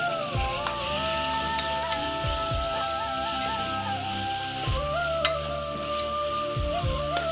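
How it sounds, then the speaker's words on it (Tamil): Tomatoes with turmeric for chicken curry fry in a pan in a bachelor-room kitchen, giving a soft crackling sizzle with occasional spoon knocks. Steady tonal music plays throughout. "நல்லா ட்ரை ஆகிற வரைக்கும் நல்லா ஃப்ரை பண்ணிக்கோங்க"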